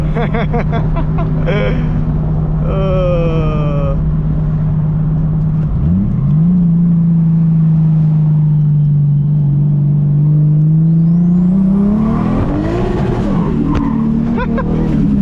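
A turbocharged 600-wheel-horsepower 1.5JZ-swapped Lexus IS300 engine drones with a deep steady rumble, then revs up and down, rising to a strained higher pitch with a whistling turbo note.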